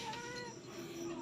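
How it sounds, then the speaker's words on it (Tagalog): A pet cat meows in a drawn-out, wavering cry, close and fairly faint. "Yung mga alaga kong cat."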